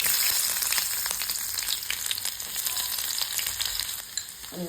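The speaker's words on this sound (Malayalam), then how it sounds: "കടുക് താളിക്കണം. അതിനുവേണ്ടി കുറച്ച് എണ്ണ ഒഴിച്ചു കൊടുക്കണം. അതിലോട്ട് കടുകിട്ട് കൊടുത്ത്" Mustard seeds and small onions sizzle in hot oil, a bright continuous frying hiss scattered with crackles and pops, close and steady with no voices.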